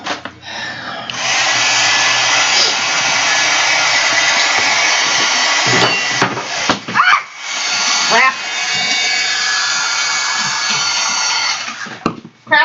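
A handheld hair dryer roars steadily and loudly up close while drying a freshly glued napkin collage on an art journal page, cutting out briefly twice in the middle before resuming.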